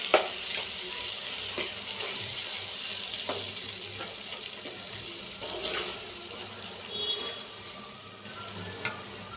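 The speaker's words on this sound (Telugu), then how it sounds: "ఇలా వేసుకున్నాక బాగా కలుపుకుందామండి" A spoon stirs ivy gourd (dondakaya) tomato chutney in a hot pan on low heat, giving a continuous soft sizzle broken by repeated scraping strokes, close and alone.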